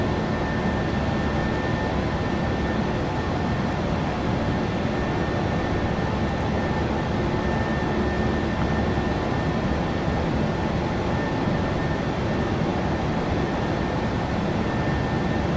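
An airliner's engines drone steadily after takeoff in a flight simulator, a constant broadband roar with a faint steady tone above it, unbroken and even, with no voices.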